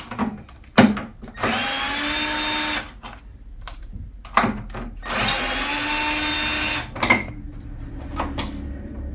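A power driver backs T25 Torx screws out of the plastic panels on a BMW GS motorcycle, with two long loud whirring runs separated by clicks and handling clatter, close up and without talk.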